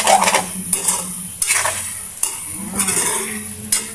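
Chicken sautéing in its own rendered fat sizzles under a series of short, loud spatula scrapes and pan clatters that come roughly every second, with no talking.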